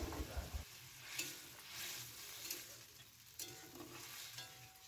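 Boiled mixed vegetables are stirred with spices, garlic and ginger in oil in a pan, giving a soft steady sizzle with occasional scraping strokes, faint and without talk.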